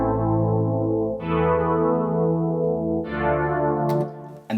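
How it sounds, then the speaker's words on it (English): A sustained synth pad chord made in Harmless in FL Studio 20 plays with ping pong delay echoes, swelling again as new notes enter, giving a layered, shimmering effected sound. "Then we're gonna add some ping pong delay."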